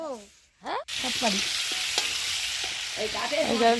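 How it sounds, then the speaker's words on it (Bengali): Potatoes fry in a pan over a wood fire at an outdoor winter picnic, a continuous hiss of frying with a few faint chirping, voice-like sounds early on and scattered throughout. "আলুটা ভেজে নিচ্ছে প্রথমে কাঠে রান্না করে"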